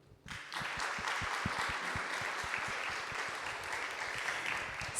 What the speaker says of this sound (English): So I really want you to give lots of applause to this wonderful lady